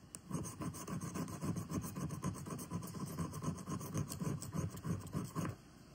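Striker scraped repeatedly along a new magnesium fire rod to throw sparks, a fast continuous rasping scratch, close and steady for several seconds, no speech.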